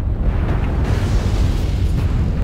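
A destroyed mech explodes in the video game MechWarrior Online, a loud, sustained low rumbling boom that fills the whole moment with dense, heavy bass and no clear speech.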